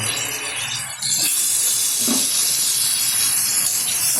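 Whisked yogurt and a splash of water go into a hot pan of prawn, drumstick and potato curry, and a loud, continuous sizzle and hiss rises and holds close by.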